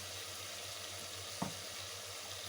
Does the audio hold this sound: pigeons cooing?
no